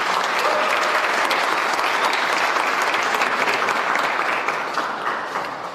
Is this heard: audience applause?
yes